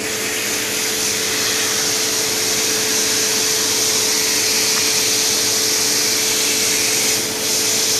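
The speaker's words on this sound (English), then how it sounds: "I'm going to be using the 25-degree tip, the green tip, and this is the one that comes with the Sunjoe pressure washer." Sun Joe pressure washer with a green 25-degree tip spraying a carpet, a loud, steady hissing rush of water with a constant pump hum, close and unbroken throughout.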